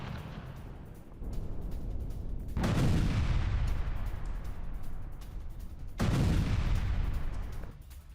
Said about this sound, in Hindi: वहीं आईईडी से इजरायली सेना ने धमाके को अंजाम दिया